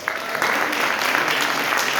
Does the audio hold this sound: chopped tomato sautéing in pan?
no